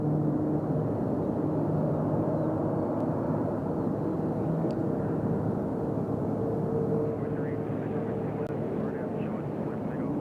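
A JetBlue airliner departing Nashville International Airport for Boston produces a continuous broad, rumbling roar that stays steady and somewhat distant, fading slightly toward the end.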